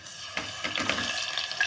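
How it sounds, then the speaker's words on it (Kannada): Washed basmati rice tipped into hot oil with cumin, a brief rush of sizzling and crackling that swells after a moment and keeps spitting close by. "ನಾನು ಇವಾಗ ಅಕ್ಕಿ ತೊಳ್ಕೊಂಡಿದ್ದೀನಿ, ಬಾಸುಮತಿ ಅಕ್ಕಿ. ಇವಾಗ ಹಾಕ್ತಾಯಿದ್ದೀನಿ."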